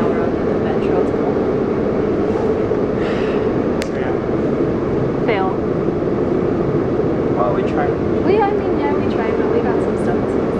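Steady loud rumble and rushing roar of a Shanghai Metro subway train while riding inside, constant throughout, with people talking over the noise.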